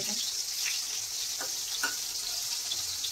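Steady hiss of eggplant frying in a small pan, a continuous sizzle with a few faint clinks over it; no talking.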